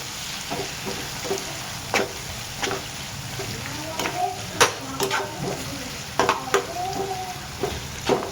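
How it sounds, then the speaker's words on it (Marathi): Chopped onion and spinach roasting in an oily pan over heat, with a steady close sizzle and repeated spatula scrapes and taps against the pan in an irregular rhythm. "कांदा पालक घेतलेला आहे, जरा खरपूस आपण भाजून घेऊ।"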